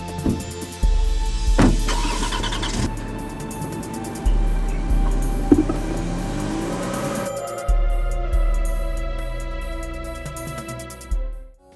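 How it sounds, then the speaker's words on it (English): Car engine cranks and starts repeatedly, several loud turnover bursts that catch and rev briefly before dropping, close and unaccompanied by talk. "Drive the car. Start it."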